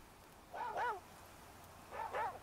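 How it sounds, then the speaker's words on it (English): Dog in the video game The Flame in the Flood, two short whining barks spaced about a second and a half apart, moderately loud over a quiet background. "Or Aesop will keep barking"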